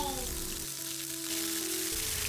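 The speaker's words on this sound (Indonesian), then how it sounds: "Terus tambahin 1 sendok makan bumbu dasar putih." A spoonful of white spice paste sizzles in a little hot coconut oil, a steady soft frying hiss at modest volume with no talking.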